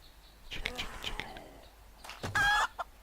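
A chicken clucks in the video game 7 Days to Die, with a few scratchy calls and a loud, sharp squawk near the end; a person whispers or speaks softly underneath.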